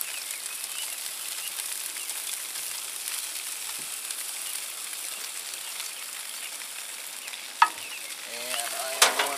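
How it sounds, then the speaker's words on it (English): Potatoes sizzle steadily in a hot pan, with a few louder scraping stirs and flips near the end; no one speaks. "I am going to stir these potatoes, flip them again."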